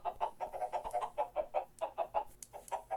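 Chickens cluck repeatedly in a pen on a video-game farm, a steady run of short, moderately loud bursts with no talking over them.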